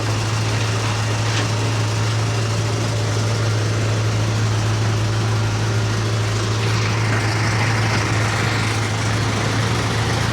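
A tractor engine idles with a steady low rumble and drone, running continuously and close by without pause.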